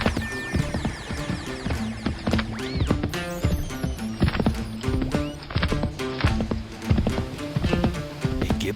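Horse hooves clip-clopping steadily on a hard surface, close and fairly loud, with whinnies and bright jingling or tonal sounds mixed in; no talking.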